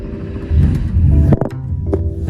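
A Porsche 911 Carrera Targa engine cranks and catches with a rough rumble that rises into a short rev, drops, then settles into a steady idle, heard up close in an underground garage.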